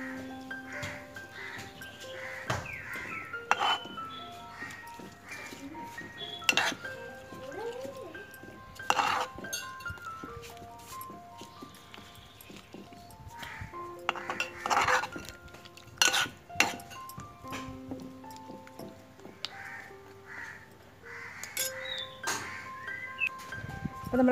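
A spoon stirring chicken and ash gourd curry in a pot, Malabar style, with scattered metallic clinks and scrapes against the pot at irregular moments, moderately close, while a person talks over it.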